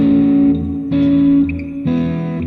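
Electric guitar ringing out sustained triad chords through effects with distortion and reverb, three chord changes in a slow step, loud and alone with no voices.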